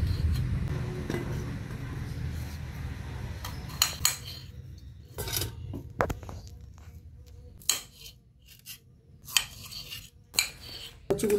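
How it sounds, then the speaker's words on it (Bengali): Taro is cut into long strips with a knife on a board, giving irregular sharp taps and chops that stand out against a low background rumble which fades partway through. "এই যে আমি এরকমভাবে কাটছি, লম্বা লম্বা করে কচুটা"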